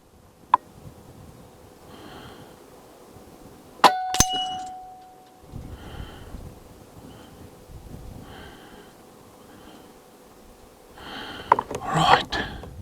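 A steel gong target rings with a sharp metallic clang as an air rifle pellet strikes it at 50 meters, one clear hit followed by a short ringing tail, with faint breathing and handling noise around it.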